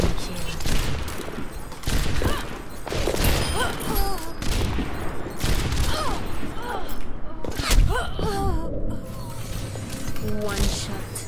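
Widowmaker sniper rifle shots in Overwatch crack out repeatedly amid dense game combat noise, with loud gunfire bursts, mechanical clatter and a near-constant layer of in-game voices and effects over the whole stretch.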